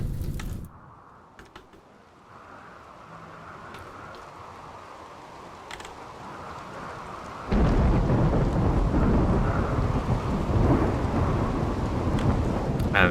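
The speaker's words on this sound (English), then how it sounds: "that rain is going to put out that fire quite nicely" Rain and thunder in the colony game RimWorld, a low rumble and steady downpour that swells suddenly midway into a heavy, loud roaring storm, with no voices.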